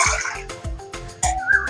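Water is poured into a vessel to make butterfly pea flower tea, heard as a close series of splashy, gurgling pulses in a quick uneven rhythm, with no one speaking.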